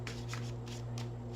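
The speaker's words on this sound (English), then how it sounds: "I'm going to shuffle." A deck of tarot cards is shuffled in a quick, soft riffle, a few papery flutters repeating over a steady low hum, faint and close with no talking.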